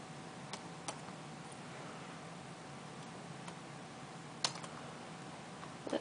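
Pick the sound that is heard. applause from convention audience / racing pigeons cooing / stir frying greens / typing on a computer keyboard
typing on a computer keyboard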